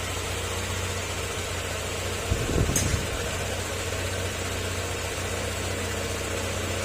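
A car engine idling steadily while warming up, a constant low hum and rumble with a brief louder knock or thump partway through, nearby and without talk.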